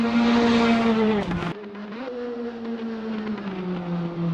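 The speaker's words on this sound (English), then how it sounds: "don't be fooled by the modest four-cylinder Renault engine" A Praga R1 race car with a four-cylinder Renault engine screams at high revs on a circuit, dips sharply during a quick gear change, then settles into a steady, loud, droning pull.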